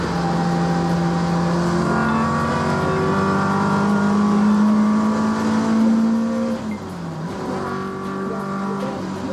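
A car with home-made ignition leads being driven hard: the engine note climbs loudly for about six seconds, drops at a gear change, then pulls again.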